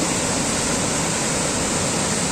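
The flood-swollen Meghad river after torrential rain, a loud, continuous broadband roar of rushing water filling the scene from close range, with no voices.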